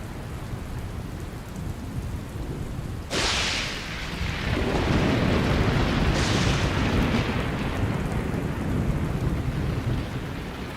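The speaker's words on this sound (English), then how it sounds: "The relentless rain gradually begins to fill the pans." Heavy rain pours steadily over the African plains of Liuwa as thunder cracks and rolls through, growing into a loud, continuous downpour with a second thunderclap later.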